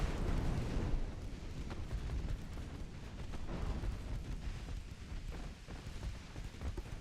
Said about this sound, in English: Down goes their battleship.